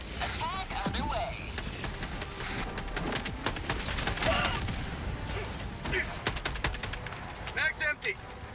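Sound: air support strike attack in video game Helldivers 2

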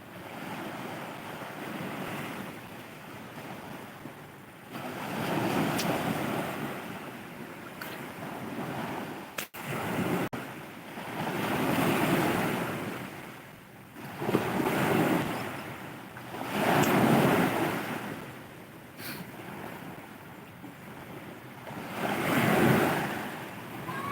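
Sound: sea waves at the beach

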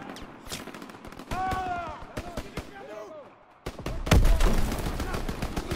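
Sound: gunfire in a video game

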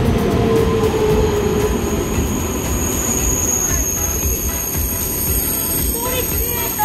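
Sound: train passing through station

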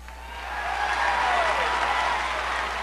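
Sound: wrestling show crowd cheering

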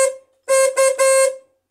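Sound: newly installed horn on a Kia Besta van honking

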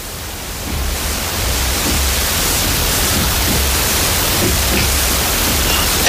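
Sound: wind blowing inside enclosed castle tower

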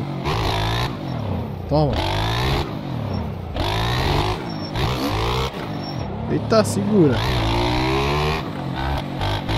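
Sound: motorcycle engine revving in the video game MX Bikes

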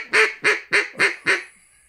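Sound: duck call imitating a duck's quack

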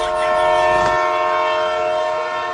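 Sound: train departing

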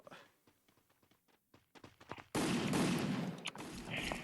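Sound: gunfire in the video game Free Fire

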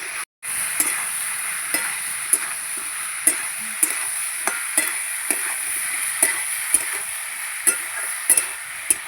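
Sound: spices sautéed and fried with radish for tengra fish curry

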